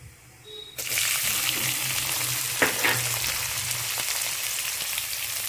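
Onions drop into hot oil tempered with mustard seeds and cumin, bursting into a loud, sustained close sizzle after a short quiet start, with occasional stirring clinks.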